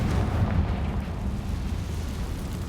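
A Confringo blasting spell explodes in Hogwarts Legacy, a loud, dense rumbling burst that fills the scene and stays sustained for a few seconds.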